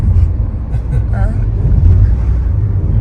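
A car starting off and being driven, its engine rumble steady and close throughout with a faint voice briefly over it.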